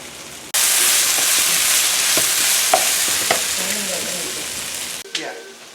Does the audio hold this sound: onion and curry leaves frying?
yes